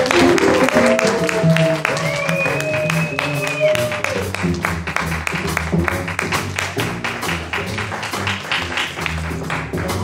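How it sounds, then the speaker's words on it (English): Audience clapping and applause at a live jazz performance, a dense continuous wash of hand claps with sustained music tones and chatter mixed in, loud and steady throughout. "So please give a round of applause for the wonderful Dr."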